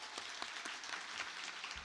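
A conference audience in an auditorium claps briefly, a soft, sparse round of applause with individual claps audible, fairly distant and quiet.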